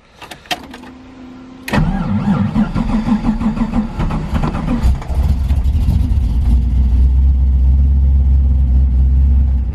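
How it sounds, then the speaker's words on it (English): Drift car engine on its first cold start: brief starter whine and clicks, then the engine catches with a loud burst and settles into a rough, heavy idle that deepens and grows louder, close by. "First cold startup ever,"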